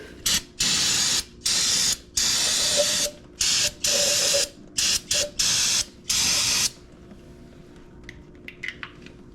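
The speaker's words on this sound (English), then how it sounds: "now I'm going to hit all this with brake clean, clean all this oil off here" Brake cleaner sprayed under a 2016 Toyota Tundra to wash off oil, loud close hissing bursts in about nine uneven pulses, some short and some over a second long, then quiet clinks.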